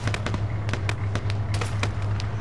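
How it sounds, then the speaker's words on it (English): Gunfire in a military shooter video game: a quick, irregular series of sharp shots over a steady low hum, loud and close, with no voices. "There's guys shooting back behind us to the west as well."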